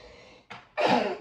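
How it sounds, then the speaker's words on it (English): A single close sneeze: a sharp intake of breath, a brief pause, then a loud forceful burst. "I gotta sneeze."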